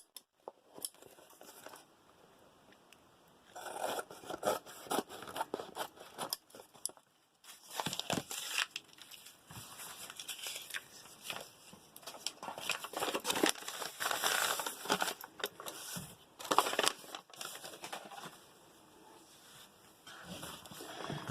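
Crinkly scrapbook paper handled and shuffled for a junk mail folio junk journal, giving close, irregular rustling and crumpling bursts that come and go over about twenty seconds, with no talk.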